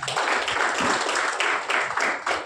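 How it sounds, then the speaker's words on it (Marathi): Loud applause from an audience at a results ceremony in Shiroli, steady dense clapping through the whole stretch, with rhythmic swells and no speech over it. "जोरदार टाळ्या"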